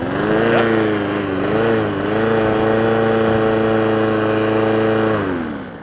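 A repaired lawnmower engine runs steadily nearby, a loud buzzing drone that wavers slightly in pitch before settling, then trails off at the end; no one talks over it.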